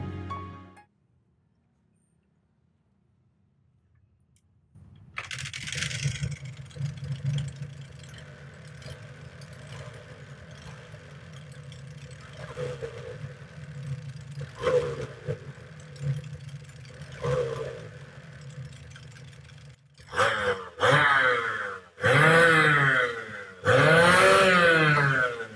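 Yamaha TZR 250 two-stroke motorcycle engine, silent at first, then catching and settling into a rattly idle with occasional blips, ending in several sharp, loud revs close by.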